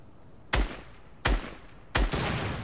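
Three separate loud gunshots from a Fortnite weapon, each a sharp broadband crack with a short decaying tail, spaced roughly evenly apart and close up with no talking.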